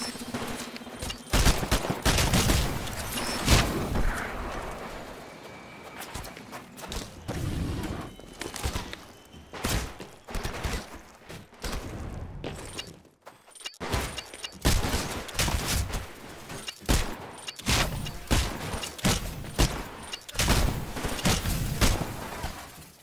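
Automatic gunfire during a live-fire training exercise in the game Titanfall, with repeated loud bursts and fusillades coming in dense clusters, a brief lull midway and steady firing again afterward, close and with no talking.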